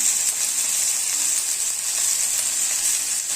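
Masala for aloo pudina gravy sizzling in a pan, a steady close hiss of frying oil with faint stirring, no voices.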